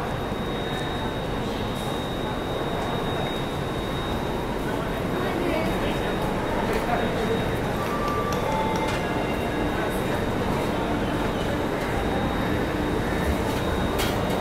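Steady rolling rumble and rattle of an AC double-decker superfast express train from Chennai to Bengaluru in motion, a continuous close interior drone with a faint high whine running throughout.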